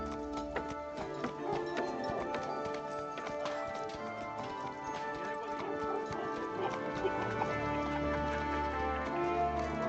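Horse hooves clip-clop in a steady, even rhythm in the video game Kingdom Come: Deliverance 2, heard close up over a layer of tonal background music.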